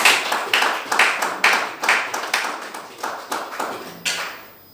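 A church congregation applauding in rhythmic unison, about a dozen strong, evenly spaced claps that gradually fade away, with no talk over them.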